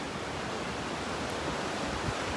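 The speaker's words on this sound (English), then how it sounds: "I come to you from just above the swimming pool here at Bronte Baths" Waves wash into the ocean swimming pool at Bronte Baths, a constant broad rushing surf noise, loud and steady with wind on the microphone and no talk.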